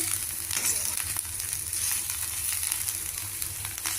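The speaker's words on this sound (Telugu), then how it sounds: "మధ్య మధ్యలో కూడా మనం కలుపుకుంటూ ఉండాలి మాడిపోకుండాను కాకరకాయ ముక్కలు బాగా ఫ్రై అయ్యాయి" Bitter gourd pieces fry in hot oil in a pan, a steady close sizzle with faint scraping as they are stirred now and then.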